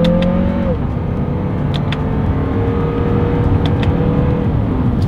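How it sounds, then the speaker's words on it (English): A 2022 Lexus NX 350 SUV accelerates hard in first gear using the paddle shifters, its engine note rising in pitch and then dropping sharply at a quick upshift before climbing again, loud and steady from inside the cabin. "first gear and paddle shifter test"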